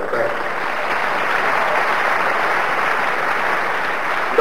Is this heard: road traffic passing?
no